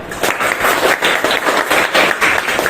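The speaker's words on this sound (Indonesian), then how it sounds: "Tepuk tangan." A class of students clapping together in a classroom lesson, steady close-up clapping with a fairly regular beat that holds for a few seconds.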